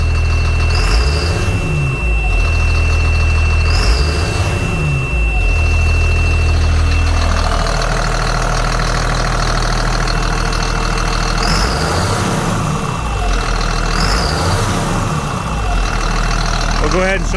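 A 2005 CAT C7 turbo diesel engine idling with a steady, heavy rumble and several rising revs that swell and fall back, loud and close, with a voice speaking briefly.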